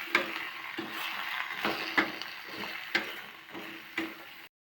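Chopped vegetables sautéed with salt in a pan for sambar, a spoon scraping and stirring in regular strokes roughly once a second over a soft, steady sizzle.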